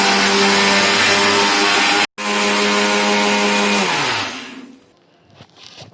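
A mixer grinder blends roasted rice for thiruvathirai kali, a loud steady whirring roar that cuts out briefly, restarts, then winds down to a stop with a faint rattle.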